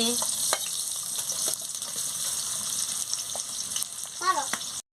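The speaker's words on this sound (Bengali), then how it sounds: "কাঁচা লঙ্কা দিয়ে দিচ্ছি" Green chilies and onions frying in oil, an even close sizzle with scattered pops and a brief scraping stir near the end before it cuts off abruptly.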